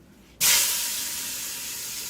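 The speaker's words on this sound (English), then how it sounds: "We're going to take our chicken, and it's going to get real smoky real quick." Chicken pieces are laid into a pan with a splash of hot oil over medium-high heat. A sudden loud sizzle erupts after a moment of quiet and holds as a steady, bright hiss.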